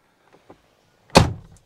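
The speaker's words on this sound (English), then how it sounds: "close the door, here we go." A car door slams shut once with a loud, close thud after a couple of faint soft knocks, inside a vehicle fitted with a 1996 Kicker X50 amplifier and a quad 12-inch subwoofer box.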